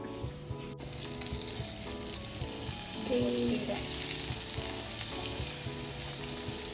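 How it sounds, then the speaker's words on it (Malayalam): Fish in a frying pan, flipped partway through, gives a steady close sizzle of frying throughout. The sizzle swells briefly as the fish is turned, with faint stirring and clinks underneath. "അപ്പൊ ഇനി ഫിഷ് മറച്ചിടാൻ വേണ്ടി പോവാണ്. പൊട്ടാതെ മറച്ചിടണം"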